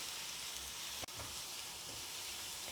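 Crushed ginger and garlic fry in coconut oil, a steady soft sizzle that runs throughout, broken by one brief clack near the start.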